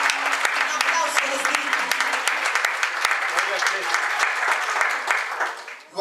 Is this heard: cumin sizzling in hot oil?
no